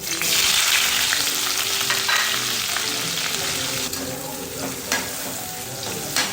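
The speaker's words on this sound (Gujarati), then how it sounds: "આ જ રીતે કેપ્સિકમને પણ આપણે તળી લઈશું." Capsicum pieces fry in hot oil for a Gujarati sabzi, giving a loud, continuous sizzle with stirring scrapes and no talking.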